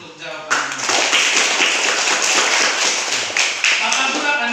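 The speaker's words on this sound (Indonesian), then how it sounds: "kembali lagi tepuk tangan dulu untuk jawaban ini" Classroom students clap for a correct answer, a burst of sharp, uneven hand claps starting suddenly after a brief voice, continuing close and loud with scattered accents.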